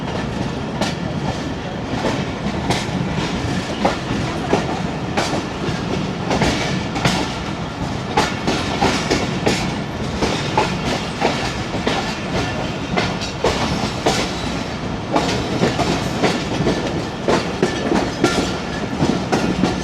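A 39 Up Jaffer Express passenger train rolls along the rails between Sadikabad and Lahore, heard from inside with a steady rumble and continuous clickety-clack of wheels over rail joints throughout, loud and close, with no talking.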